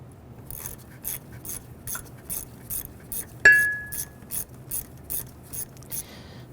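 A ratchet clicks in quick, regular bursts, driving a caliper bracket bolt into a 1999-2004 Jeep Grand Cherokee during brake work, close and fairly quiet, with one sharp metallic clink partway through.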